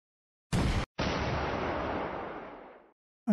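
A weapon impact explosion in the modern military simulation game Command Modern Operations: a sharp blast followed by a second heavy boom that rumbles and fades over about two seconds, loud and close with no talk.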